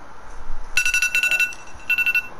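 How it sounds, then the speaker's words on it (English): Timer in a Bradford City football career-mode game going off, a bright, high beeping chime in short repeated pulses, a group of beeps and then another burst after a brief pause, over faint background noise. "There goes the timer."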